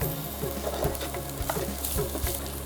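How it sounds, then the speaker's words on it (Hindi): Ginger, and likely garlic, sautéing in hot oil in a pan: a steady close sizzle and crackle throughout, with occasional stirring scrapes and no talk. "और इसको हम सौटे करेंगे।"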